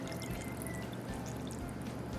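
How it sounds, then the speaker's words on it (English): Chicken gizzards and hearts being rinsed with white vinegar, sour orange and water give off a continuous close splashing and trickling of liquid, steady and soft without speech. "Wash it and rinse it with some white vinegar, sour orange, and water."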